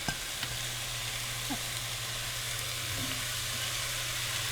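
Onions, celery and bell pepper sizzling in a Dutch oven while gumbo is made: a steady, faint frying hiss with a low background hum and a few small clicks.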